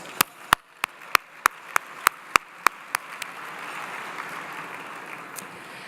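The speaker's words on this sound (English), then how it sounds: "Give yourselves a round of applause." Applause from a gala dinner audience opens with a run of sharp, evenly spaced single claps, then swells into a broad, steady wash of clapping from the crowd.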